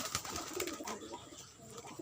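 Low, soft pigeon cooing in gentle repeated pulses, faint and close-sounding, with no voices present.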